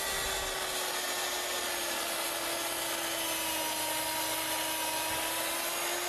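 A power tool cuts away a scrap board during flooring work, a steady loud grinding whine with a constant pitch and harsh, gritty texture throughout, close up and uninterrupted.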